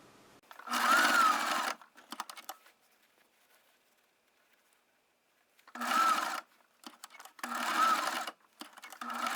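Sewing machine stitching fabric for a selvage snap bag: three close bursts of rapid mechanical stitching with quiet gaps and small handling clicks between them, no talking.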